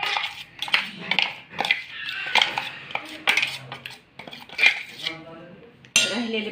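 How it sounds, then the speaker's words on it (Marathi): Ground dal and rice batter is scooped into a metal pot with repeated scraping clinks of a spoon against metal, close and fairly loud in irregular bursts. "तर एका पातेल्यामध्ये मिश्रण हे काढून घेऊया."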